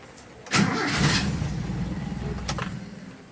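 A Toyota Kijang Kapsul with a carburetor engine cranks and catches, then settles into a rough idle with a brief rev near the end, loud and close with no talking.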